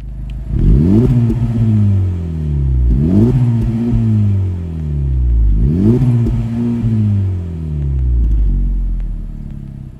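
A Honda Civic Type R FL5 engine revs hard three times, each burst climbing and falling back smoothly. The sound is loud and close, with a steady throaty idle between the revs.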